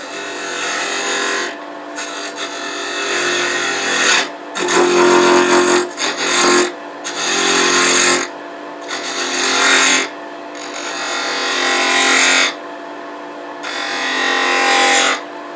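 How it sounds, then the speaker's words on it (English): A 3/8 inch detail gouge cuts a stabilized wood ring blank spinning on a lathe, giving loud, steady scraping rasps in repeated passes of a few seconds each, with brief pauses between cuts. "Now I'm going to use my 3/8 inch detail gouge to just take the wall thickness down some."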